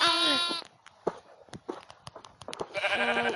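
Sheep bleating in the video game Minecraft Pocket Edition, two loud wavering bleats near the start and end with talk and clicks between them.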